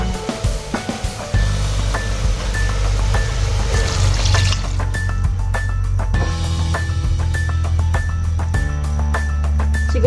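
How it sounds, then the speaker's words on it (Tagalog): Water poured into a pot of sautéed pork for Filipino nilagang baboy, a loud continuous splashing and sizzling rush that follows a few clinks and lasts several seconds up close. "This time po, lalagyan na po natin siya ng tubig."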